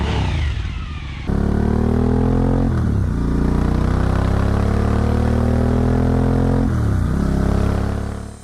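Motorcycle fitted with a Yoshimura slip-on exhaust, engine revving up and dropping back several times, loud and close with a deep throaty rasp.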